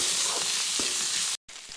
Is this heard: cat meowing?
no